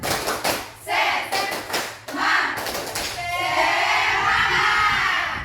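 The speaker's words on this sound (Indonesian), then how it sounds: "saya kasih tepuk semangat lagi ya. Tepuk semangat." Classroom of students doing a rhythmic spirit-clap cheer, bursts of hand claps in quick patterned groups, then shouting and cheering voices swelling and holding loud near the end.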